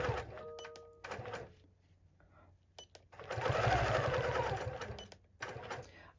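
A quilting sewing machine mounted on a Cutie Frame stitches in stop-and-start runs, rapid close mechanical chatter alternating with pauses and soft clunks of handling.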